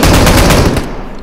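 A rapid burst of automatic gunfire in PUBG Mobile rings out loud and close, with shots in quick succession that cut off abruptly.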